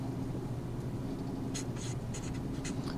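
A pen or marker writes across a board in short, scratchy strokes, several quick bursts over a steady low room hum with no voices.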